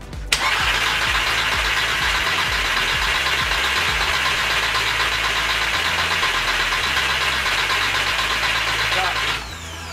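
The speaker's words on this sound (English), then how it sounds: "Julian, just crank it for 5 seconds, roughly 5 seconds, just so we can get some oil flowing through the engine" VW 2.0T TSI engine with a seized balance shaft, cranked over on the starter without firing: a steady rhythmic starter churn lasting about nine seconds at close range, then stopping abruptly.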